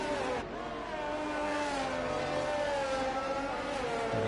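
Race cars on a racetrack in a Singapore AM1 sim race lap, a steady engine whine that shifts pitch as they head through the final corners, loud and continuous.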